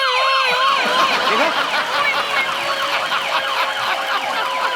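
A voice imitates an ambulance siren, warbling up and down in repeated rising and falling wails, loud and close, with a short spoken word at the start.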